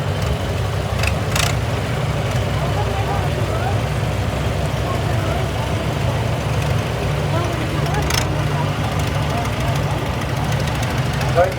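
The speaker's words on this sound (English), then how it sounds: "This is a rare tractor. A Ferguson 40 tricycle." A Ferguson 40 tricycle tractor runs at a steam and gas show parade, its steady low engine drone continuous and fairly near, with brief clicks and scattered crowd and background voices over it.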